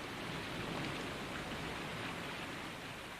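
Steady rain pours down, a dense continuous hiss of drops hitting surfaces, with no voices.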